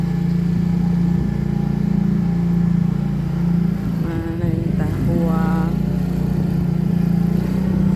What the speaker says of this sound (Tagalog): Si Ado mo na yung kalipay magsakay motor